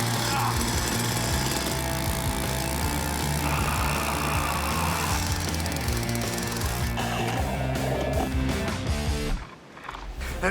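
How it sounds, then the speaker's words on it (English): A power ice auger drills through thick lake ice for ice fishing, its engine snarling loud and steady for several seconds before cutting off abruptly near the end. "Try drilling 3 holes like I just did."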